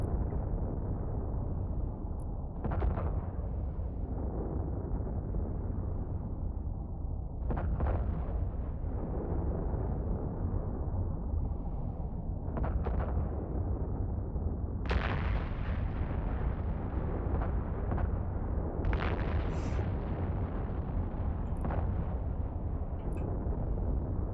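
Ship weapon volleys and explosions in the space game Eve Online, a series of deep booming impacts spaced several seconds apart over a constant low rumble.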